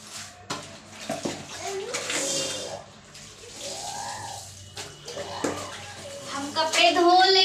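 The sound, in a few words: clothes being washed by hand with water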